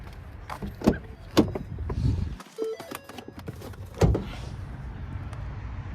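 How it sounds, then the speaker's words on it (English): The hood of a 2013 Ford C-Max Hybrid being released and lifted: a few sharp clicks and clunks of latches and metal, a brief creak, then a final thump, close by with no talking. "I'm gonna go ahead and pop the hood"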